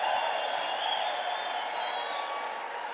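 A church congregation applauds in a steady, dense wash of clapping that holds at an even level for the whole stretch, with no voices standing out.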